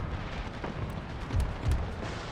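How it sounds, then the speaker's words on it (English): Mortar and artillery fire in Empire Total War, a steady rumbling battle bed with a few dull distant booms and faint cracks rising above it. "The mortars are firing dangerously close to our..."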